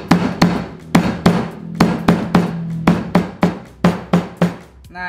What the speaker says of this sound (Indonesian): Bawang putihnya dikeprek dulu. Serainya dikeprek juga.